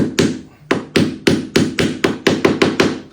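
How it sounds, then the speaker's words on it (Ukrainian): A small hammer taps in a steady, slightly quickening series of about eleven sharp, close knocks, each with a short ringing decay, heard alone without talking. "Молоточок, молоточок, бачиш?"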